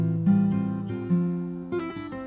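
Fingerstyle acoustic guitar plays a melody bar from a song, plucked notes ringing over low bass notes in a steady, unhurried rhythm, close and clear with no voices.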